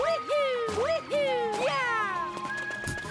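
A cartoon kitten in the Bowser's Fury video game giving three close, bright meows with rising and falling pitch, followed by sparkly chiming game effects.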